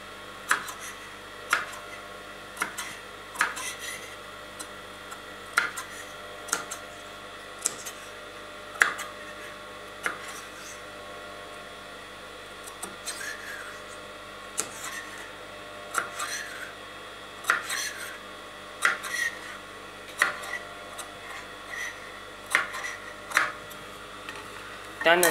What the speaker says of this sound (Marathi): आता आपण याला नॉचेस देणार आहोत।